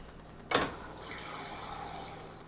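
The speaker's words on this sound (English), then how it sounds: "And then I might add a little bit more water." Water poured from a tap into a blender jar holding spinach, a sudden splash followed by a steady, moderate trickle of filling liquid, close and alone.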